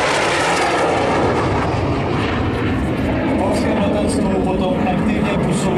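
Training aircraft flying low past the crowd at an air show, a loud continuous engine roar dominating the scene while an announcer talks over the public address.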